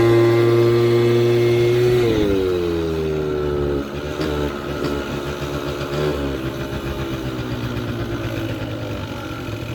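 A 50cc scooter engine idles roughly with a poor carburetor and bad fuel, a loud, close, uneven putter whose pitch sags and wavers partway through without any talking.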